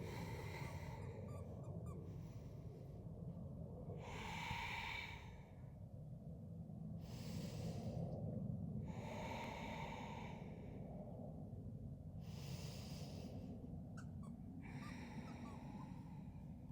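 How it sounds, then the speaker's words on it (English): Slow, audible breaths during a yoga hip-release session, five or six airy inhales and exhales spaced a few seconds apart over a low steady background hum. "Breathing in and out."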